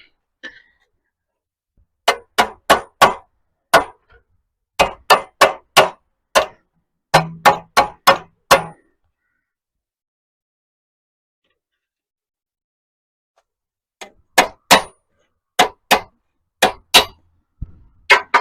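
Sharp metallic hammer strikes ring out flattening sheet metal on a 1960 Chevy Biscayne roof, in quick bursts of several blows separated by pauses, including a long silent gap midway.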